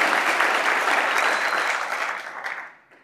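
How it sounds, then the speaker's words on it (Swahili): A crowd gathered at a Yanga club event breaks into dense, loud applause close by, sustained for a few seconds before fading out quickly at the end. "Tujipigie makofi wote."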